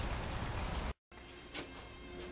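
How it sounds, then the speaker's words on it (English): Rain falls steadily as a soft, even hiss with faint patters of drops, briefly cut to silence for a moment before continuing at a similar low level. "Well, it still hasn't stopped raining."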